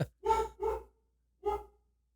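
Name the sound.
husky dog barking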